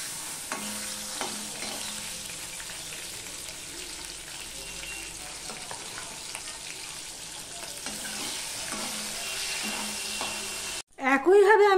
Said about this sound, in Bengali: দেখো, মাছগুলো আমি হালকা করে ভেজে নিচ্ছি